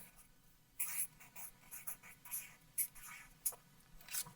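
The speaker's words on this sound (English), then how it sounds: "Mrs. Kraft, will you write your name on a index card as well?" A name is written by hand on an index card, a close, quiet series of short scratchy pen strokes in an uneven rhythm with brief pauses between letters.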